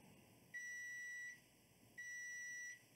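Two steady electronic beeps from a multimeter testing continuity on a server-grade storage cable, each lasting under a second, separated by a short pause over a faint background hiss.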